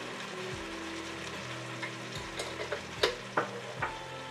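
Shrimp paste and vegetables are stirred in a frying pan for Filipino pinakbet, a soft sizzle underneath a series of spoon scrapes and clacks that grow louder and closer together toward the end.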